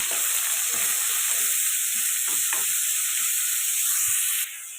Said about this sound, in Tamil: இதெல்லாம் ஒன்றா வதக்கலாம் நல்லா வதங்கட்டும்